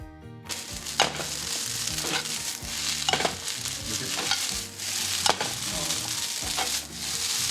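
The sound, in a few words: stirring rice with ketchup in a pan over high heat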